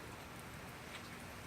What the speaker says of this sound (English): it is raining out there currently